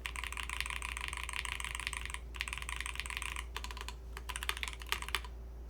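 Rapid typing on a Ducky One X Mini mechanical keyboard, with the internal silicone and foam dampening removed, makes a dense, close clatter of keystrokes with two brief pauses.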